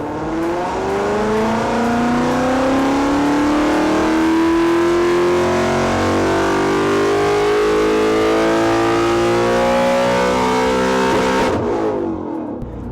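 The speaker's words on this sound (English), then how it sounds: "So this engine here is capable of well over 1000 brake horsepower, but we're actually running this at 970 brake horsepower on 99 octane fuel." A Dark Horse Mustang engine tuned to about 970 brake horsepower on 99 octane fuel with lowered 10:1 compression, loud and close, revving steadily upward for over ten seconds before dropping off near the end.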